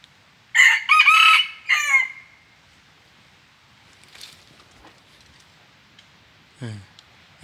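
A jungle fowl rooster lets out a loud, close crow in broken bursts, followed after a quiet gap by a few faint clucks and one more short call, outdoors in a forest trapping setting.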